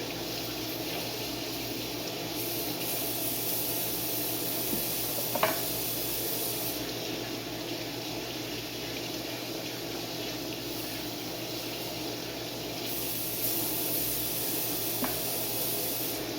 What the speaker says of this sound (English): so I rinse these off in cold water.